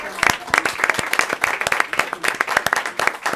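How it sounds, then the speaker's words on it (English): A small group at a junior council meeting claps with distinct, uneven hand claps close by, a loose round of applause with a voice talking through it. "Let's give them a round of applause"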